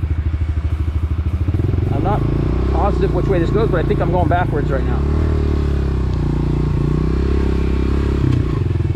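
A dirt bike engine idling and riding slowly on a small track, with a steady close motor rumble and low-speed putter, while a rider talks over it.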